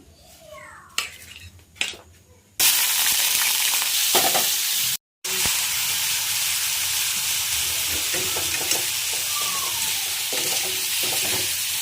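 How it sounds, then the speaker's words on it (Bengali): Pointed gourd (potol) pieces frying in oil in a hot home kitchen, a loud steady sizzle that starts abruptly after a few quiet utensil knocks, with occasional stirring clinks and a brief dropout. "তো এখন পটলটা ভাজা হচ্ছে এদিকে"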